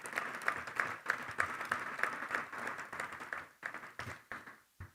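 An event audience applauds at a thirtieth anniversary thanksgiving tribute, a modest, fairly faint patter of clapping that thins out and trails off toward the end.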